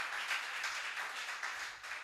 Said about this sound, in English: I would also love for us to clap as we mention these important dignitaries